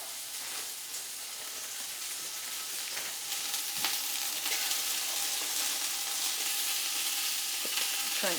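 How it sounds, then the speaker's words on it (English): Beef sizzles in a pot as it is browned for kale soup, a steady close crackling fry with no voices. "There we go, nice sizzle."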